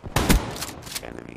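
Gunfire in the Black Ops 3 video game breaks out as a short, sharp burst of a few rapid shots, loud and close, over game sound.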